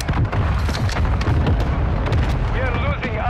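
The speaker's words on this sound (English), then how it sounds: "Mortar strike inbound." Mortar strike explosions in a military video game, a dense loud barrage of booming blasts and crackling impacts throughout, with game radio voices talking over it.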